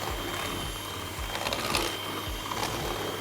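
Electric hand mixer whizzing malva pudding batter in a bowl, a steady mechanical whir with a rhythmic pulsing hum, moderately loud and unaccompanied.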